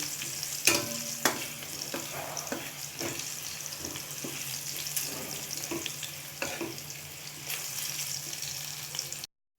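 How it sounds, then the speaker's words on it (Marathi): Garlic frying in a pan for broccoli subji, a soft continuous sizzle under irregular clinks and scrapes of a spoon stirring, close and fairly quiet, cutting off abruptly at the end, with no talking. "हे छान आपण फ्राय करून घेऊया लसणाचा कलर हा चेंज होऊ द्यायचा आहे"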